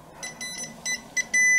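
A multimeter set to continuity beeps as its probe touches a grounded household radiator, giving several short high electronic beeps in an irregular rhythm and then a longer, louder sustained tone at the end.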